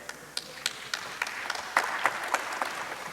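An audience at a green entrepreneurship conference in a room of mostly women claps steadily, a soft patter of many hands with no speech over it.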